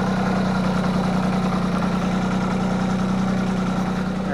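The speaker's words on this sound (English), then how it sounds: "now I should be able to get on the tractor and just pay attention" A tractor engine idles steadily nearby, a constant low rumbling drone with a fine even throb and no voices over it.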